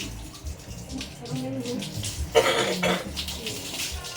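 Water splashes and pours in a home bathroom while someone is being bathed, with a louder burst of sloshing midway over a steady background of running water and low household noise.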